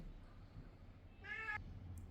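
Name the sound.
cat meowing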